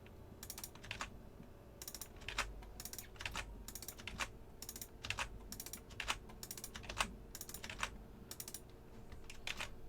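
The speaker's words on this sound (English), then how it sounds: "Sorry for the repetitive clicking as well." A computer keyboard and mouse are clicked repeatedly while modelling low-poly art, with bursts of quick clicks spread across a steady hum. The clicks are close but fairly quiet, and no one speaks.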